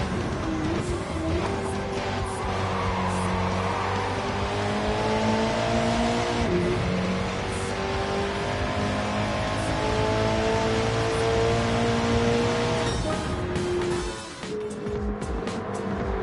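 A race car engine in Gran Turismo 7 drones loudly and continuously, pitch climbing and dropping through gear shifts as it revs, with a brief dip near the end.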